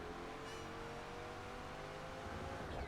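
Race car engines in Project Gotham Racing 4 during a rolling start on a big straight, a steady loud roar with revving and tire skid noise running continuously throughout.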